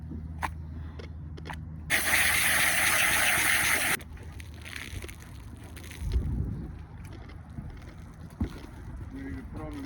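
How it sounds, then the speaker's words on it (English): Rinsing a cleaning rag in water while washing HVAC equipment, a loud two-second rush of splashing water followed by softer sloshing and wringing, with some talk in the background. "I'm just gonna rinse the rag out and repeat."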